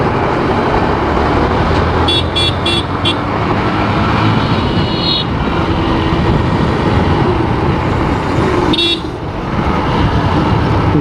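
Car horns honking amid loud, dense road traffic in a jam, several short toots near the start and another burst later, over constant engine rumble and street noise.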